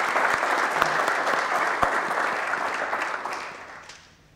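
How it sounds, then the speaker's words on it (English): An audience applauds Coach Tina Sloan Green at a sport and social justice event, a full round of clapping that holds steady for several seconds before tapering off at the end. "Please give a round of applause, if you would, to Coach Tina Sloan Green."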